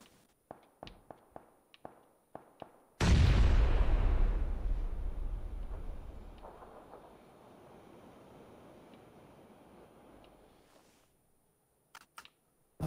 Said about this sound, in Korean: 이쪽에서 총소리 났잖아